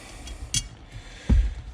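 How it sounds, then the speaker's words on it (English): Screws being fastened on a Hurst shifter in a 1996 Chevy C1500 pickup, heard as a short metallic click followed by a louder, duller clunk of tool on metal, close up and otherwise quiet. "We just got to put the 4 screws back in."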